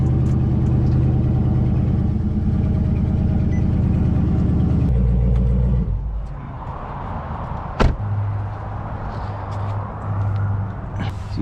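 Dodge Charger or Challenger engine running at a steady loud idle close by, then dropping off and settling into a quieter, lower hum, with a sharp knock partway through.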